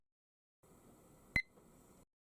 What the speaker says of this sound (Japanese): タイマーがスタートします。